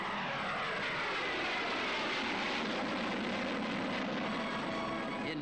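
Military aircraft fly over Tushino Airfield with a continuous loud roar of engines that holds steady throughout, like a flypast at an air show, and no voices can be heard.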